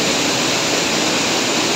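A powerful waterfall in Iceland roars with steady, dense, broadband rushing water, loud and continuous with no break.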